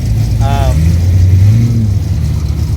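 A 455 Pontiac LeMans making a drag strip pass: a loud, close, low engine roar that swells and holds, with a brief higher vocal-like tone near the start.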